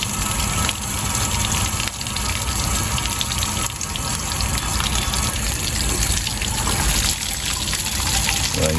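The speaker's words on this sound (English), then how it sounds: "So I get a little rush of water," Water rushes out of the drained fresh water system of an Intech Sol Dawn RV, a loud, continuous gushing and splashing that stays steady throughout, with some background noise underneath.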